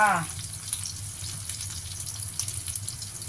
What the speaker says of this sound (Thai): ทอดให้เหลืองเลยจ้า